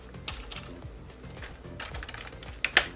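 Fingers type on a computer keyboard, a quick run of light clicking keystrokes, close and fairly quiet, ending with a few sharper taps.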